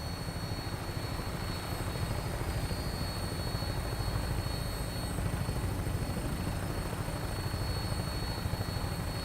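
In the Fallout 4 video game, an aircraft lifts off with a loud, continuous rotor-like engine drone and steady rumbling throb throughout, close and even in level, with no talking over it.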